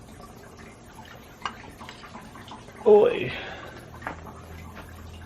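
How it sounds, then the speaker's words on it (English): Coolant draining from the water pump of a Saab 9-3 Turbo X V6, a sudden short gush of splashing liquid against a quiet background, with a brief voice heard. "it's already draining a ton of coolant"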